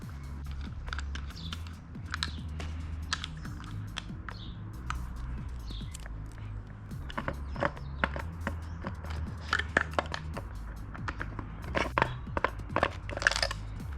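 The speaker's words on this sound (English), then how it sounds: "So the next part is to get these 2 screws out and get these 2 screws out" Screws with washers are removed from a 2019 Honda CB300R motorcycle: a steady run of small, sharp ratcheting clicks and ticks, close by, over a faint low background hum.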